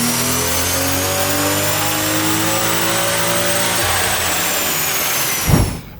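A tuned car engine on an E60 ethanol blend revs hard and loud, its pitch sweeping steadily upward for several seconds before a brief burst and sudden cut near the end.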